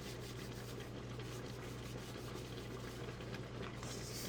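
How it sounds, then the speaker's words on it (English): Flour-dusted hands rubbing together to strip sticky apple pie pastry dough off the skin, a soft steady dry rasping that runs continuously and faintly, with no talk. "I'm just going to put a little bit more flour on my hands, and we're going to rub them together like this"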